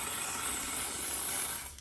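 Aerosol rust coating hissing as it sprays inside a Dana 60 axle truss, one steady continuous jet that tapers off at the end, close up with no talking.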